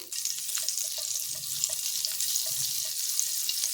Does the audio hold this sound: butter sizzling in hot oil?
yes